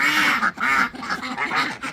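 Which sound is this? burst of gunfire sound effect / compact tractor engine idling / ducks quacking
ducks quacking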